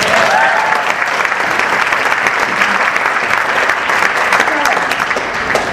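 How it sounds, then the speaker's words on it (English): A crowd claps loudly and steadily for several seconds, dense applause filling the space with a few faint cheers mixed in. "Give him a round of applause."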